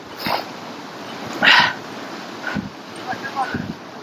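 Hunting dogs bark intermittently in the open during a wild boar hunt in Aydın, a few sharp barks spaced out over a few seconds, somewhat distant against a windy background.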